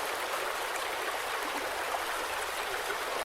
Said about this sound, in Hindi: लेकिन पानी का बहाव इतना तेज था कि वह खुद को संभाल नहीं पाया